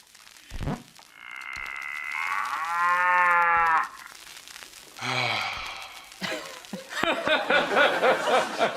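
Several cows moo one after another, long and drawn out and close by, with quiet gaps between the calls.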